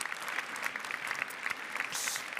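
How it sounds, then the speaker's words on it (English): Audience applause at an industry day event, a steady burst of clapping from a crowd, fairly distant and even, lasting a couple of seconds with no talk over it. "I think this alone deserves a big round of applause"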